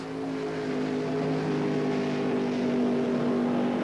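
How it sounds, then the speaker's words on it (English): A Blue Max funny car makes a single drag-racing run at the 1977 NHRA Gatornationals in Gainesville, Florida: a loud, steady engine roar with a strong droning pitch that holds and swells slightly, with no talking over it. "Ray Beadle gets set to go now on a single run with the Blue Max"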